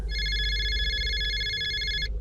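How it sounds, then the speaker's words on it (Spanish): A telephone bell rings in a steady two-tone electronic trill for about two seconds and then cuts off, heard alone over a low background rumble. "Volvió a sonar el teléfono."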